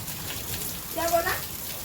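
Water sprays and splashes steadily in a broad hiss, like a fountain, swelling a little midway. People talk over it.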